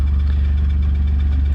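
A John Deere Gator utility vehicle engine idles up close, a steady low rumble with a faint pulsing throb that holds even and unbroken throughout.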